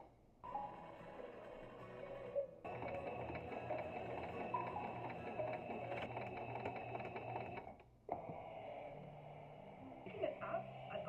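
A sewing machine stitching quilt pieces together, a fast steady whirring chatter in long runs with brief pauses between them, close by, with background music and some faint voice underneath.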